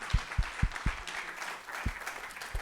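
Audience applause after a talk on social connection and loneliness, fairly faint and brief, with a broad patter broken by a few dull low thumps.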